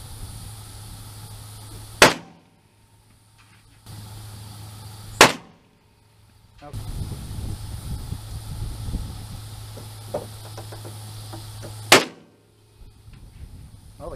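Rifle shots fired at a can 450 yards downrange, three sharp loud cracks spaced several seconds apart over steady outdoor wind and low rumble, with no talk.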